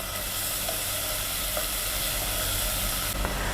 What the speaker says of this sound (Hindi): इसमें डालेंगे 1 टीस्पून लहसुन का पेस्ट, 1 टीस्पून डालेंगे अदरक का पेस्ट और इसका कच्चापन दूर होने तक इसे फ्राई करेंगे।